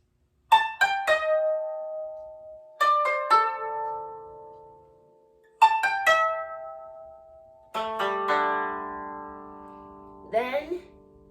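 Koto plucks the first part of Hana Ikada in short clusters of bright notes that ring and decay, with long pauses between phrases and a bent, sliding note near the end; close and solo, no talking.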